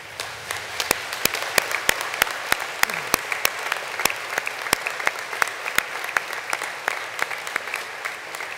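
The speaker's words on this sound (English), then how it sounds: "Please stand up and give a round of applause." Graduates and guests at a university graduation ceremony give a round of applause, a sustained dense clapping from a large crowd with a few sharp, close individual claps standing out throughout.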